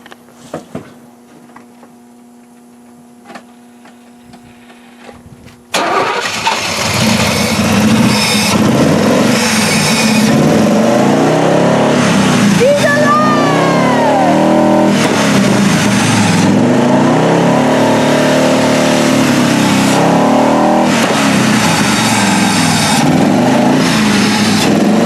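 A car engine that has had its fuel lines cut catches abruptly after a quiet stretch, then runs loud and close with repeated revs that rise and fall steadily until the end.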